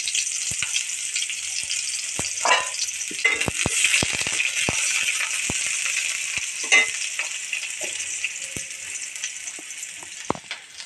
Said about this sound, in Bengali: আমি একটু তেল দিয়ে দিচ্ছি তেল দিয়ে দেবো পেঁয়াজ দিয়ে দিলাম